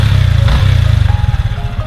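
A stock Yamaha Sniper 155R motorcycle engine, nearly three years old, runs steadily up close with a smooth, even low rumble and no other sounds over it.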